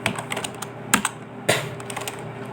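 Keys on a computer keyboard clatter in short irregular bursts as commands are typed into a command-line interface, with a couple of sharper, louder key strikes, likely the enter key, standing out close and clear.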